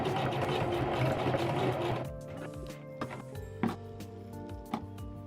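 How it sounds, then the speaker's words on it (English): A home sewing machine runs steadily for about two seconds at close range, stitching fabric for a scrunchie, then stops and leaves quieter clicks and faint background noise. "So we're gonna break out the sewing machine."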